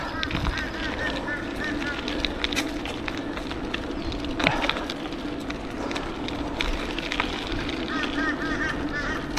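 Loud repeated cawing of a crow at an outdoor vintage car show in Australia, harsh calls recurring over a busy background of wind and crowd murmur, with people talking nearby.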